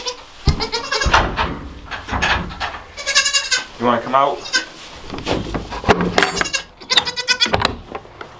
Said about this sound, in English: Good morning, little goat.